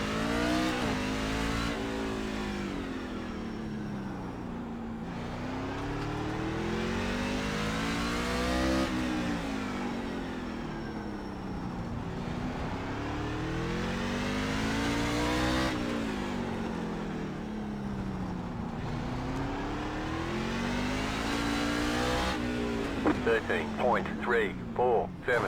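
A NASCAR truck engine in the iRacing sim, running a third-gear lap at LA Coliseum, roars loud and close, its pitch climbing and dropping in repeated cycles as the throttle comes on and off through the corners.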